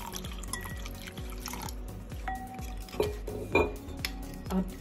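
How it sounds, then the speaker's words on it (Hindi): Water poured into a bowl of blended fennel sharbat mixture, heard as close wet splashing and liquid sloshing with a few light clinks of a utensil against the bowl. "पानी ऐड कर देंगे।"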